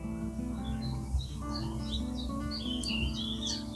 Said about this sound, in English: The blackbird sitting in the middle of the path, soaking up the warmth